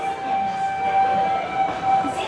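A steady high-pitched tone sounds over a low rumbling background, like a train horn or whistle as a train approaches, continuing for a couple of seconds.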